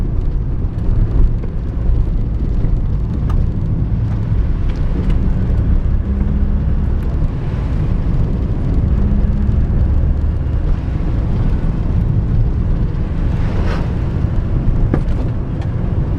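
A 1998 Daihatsu Sirion on winter tyres driving over rough road, a loud steady rumble of engine and road noise from inside the cabin with a few dull thuds from the suspension, no talking.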